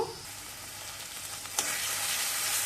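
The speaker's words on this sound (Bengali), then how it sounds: "এর মধ্যে দিয়ে দেবো পেঁয়াজ বাটা এবারে পেঁয়াজটা একটু ভালো করে কষে নেব" Onion paste frying in a pan with ginger and garlic for doi rui, a Bengali rohu fish curry; a steady close hiss and sizzle with one brief stirring clatter partway through.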